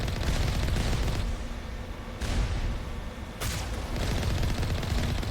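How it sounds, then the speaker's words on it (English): Strafing runs in Mass Effect around a base, a dense continuous barrage of gunfire and explosions with two sharp blasts standing out partway through, loud and close without speech. "Some strafing runs going on."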